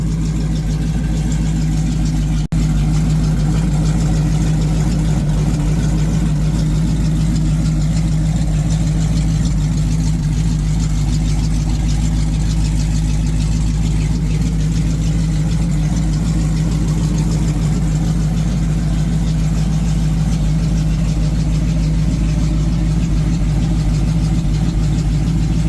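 A 1986 Ford Mustang GT Foxbody engine idles steadily while warming up, a loud, constant low rumble that runs unbroken throughout, with no voices.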